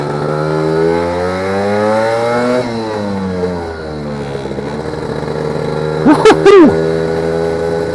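Lambretta scooter fitted with a BGM PRO MZ30 exhaust, revving high and rising in pitch, easing off, then snapping through two sharp quick blips near the end, loud and close with no talk.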